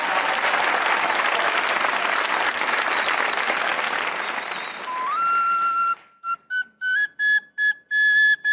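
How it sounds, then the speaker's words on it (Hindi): A television comedy-show studio audience bursts into loud, dense applause that carries on for about five seconds, then breaks off as bright whistle-like musical notes take over in short, spaced bursts. "तालियां भाई अदनान भाई के।"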